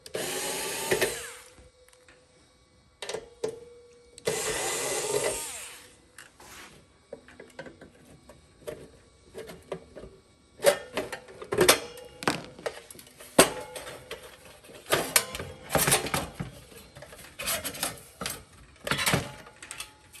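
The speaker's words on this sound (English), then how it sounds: "we'll start out by taking these two screws off, and that should remove the case" Screws being removed from a battery charger case during a teardown, heard as two whirring bursts of a powered screwdriver followed by scattered clicks, taps and handling clatter up close.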